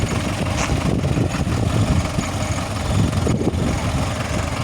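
DongFeng 404 tractor engines idle steadily, a close, continuous low diesel rumble with a slight rattle and no voices throughout.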